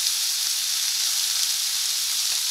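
Chicken pieces seasoned with salt, pepper and oregano fry in hot oil in a frying pan, giving a steady, dense sizzle that holds at an even level throughout with no voices.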